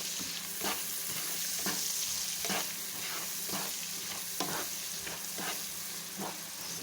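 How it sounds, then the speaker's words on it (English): Onions sizzle steadily in a hot pan while being stirred for a home rice-and-vegetables lunch, a continuous close frying hiss broken by regular scraping strokes of the spoon. "So fry it, these onions"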